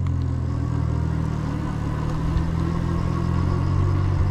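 Oraimo Monster 100 e-bike with a 350 watt motor running on throttle only at power level 5, a steady low motor drone with road rumble, continuous and close throughout.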